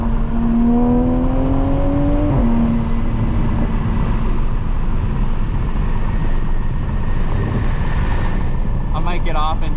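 A 500HP Supra cruises on the highway with a steady engine drone that dips once in pitch, under loud continuous road and wind roar, with a voice talking in the cabin.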